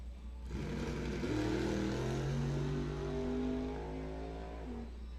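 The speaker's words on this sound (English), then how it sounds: "Pig making some test passes here in the car." A drag racing car making a test pass at Coles County Dragway roars past with a rising, sustained engine note that swells and then fades slightly, heard without talk.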